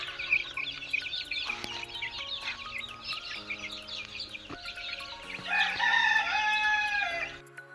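Chickens and chicks at a small poultry farm stream out of an opened cage, a dense, close chorus of high peeping chicks with clucks and a rooster crowing over it, growing louder near the end.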